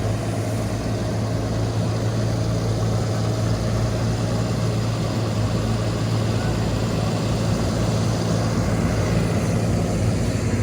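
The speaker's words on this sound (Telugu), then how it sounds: "ఇదిగోండి తార్ వేసే మిషనరీ ఎలా లెవెల్గా వేసుకుంటే వెళ్తున్నారో" Asphalt road paving machinery laying tar on a road under construction in Amaravati capital city, giving a steady, continuous engine drone and idling rumble with no breaks.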